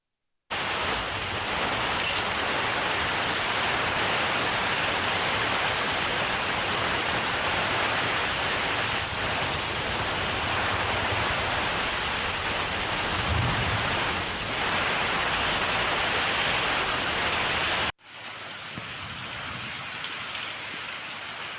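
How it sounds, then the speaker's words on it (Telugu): Heavy rain pours steadily on a city in Telangana in a dense, unbroken hiss for a long stretch, then cuts to a quieter patter near the end. "ఇక నగరంలో నిన్న సాయంత్రం నుంచి భారీగా వర్షం కురుస్తోంది"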